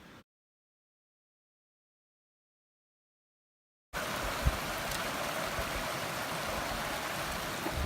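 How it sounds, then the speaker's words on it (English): A river beside a small meadow campsite on the Pacific Crest Trail gives a steady, moderately loud rushing flow that starts abruptly after a few seconds of silence. "There's this little meadow over here. It's right on the river."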